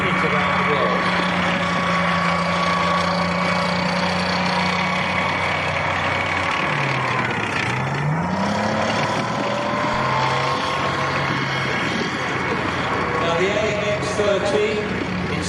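Alvis Scorpion light tank fitted with a Jaguar E-type sports car engine, running at an arena display and giving a steady, loud engine drone with a revving swell partway through.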